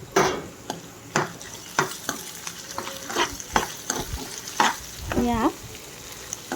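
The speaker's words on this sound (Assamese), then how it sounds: "আদা নহৰু পেষ্টৰ গোন্ধ আৰু পিঁয়াজখিনি ৰঙচুৱা হোৱালৈকে মই এনেকৈ ফ্ৰাই কৰি থাকিম" Sliced onions with ginger-garlic paste fry and are stirred in a pan for an Assamese duck curry: a constant sizzle under regular spoon scrapes and metallic taps, close and clear, with one brief spoken word near the start.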